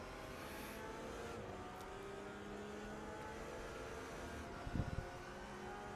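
A Porsche race car in a racing video game at Bathurst drones steadily while following another Porsche, its engine a continuous whine with a brief cluster of low thumps near the end, quiet and without talk.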